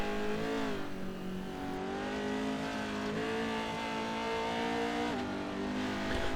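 A Pro 4 racing truck running down on power, its engine droning in a steady, strained tone with small shifts in pitch as it works around the dirt track, carrying on continuously with no voices.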